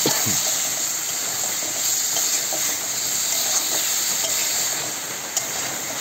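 Soya chunks stir-fried in a pan with water added, cooked down like a meat dish, giving a steady close sizzle and hiss with occasional scraping stir sounds and no talking.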